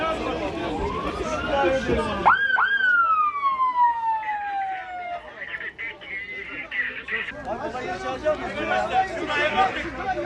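A wailing emergency vehicle siren sweeps up and down at a tram accident scene, loud and near, rising sharply then gliding off, with crowd chatter and shouting voices around it.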